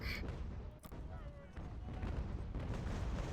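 Cannon artillery booms in a battle in Ultimate General: American Revolution, with repeated dull thumps and rumbling fire rolling under a continuous din of gunfire.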